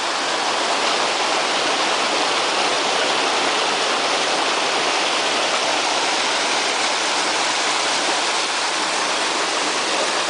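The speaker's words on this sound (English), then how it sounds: "That's the creek as it runs down the mountain" A mountain creek rushes steadily below a small dam and pool, a loud, dense, unbroken roar of falling and churning water that holds constant throughout with no voices.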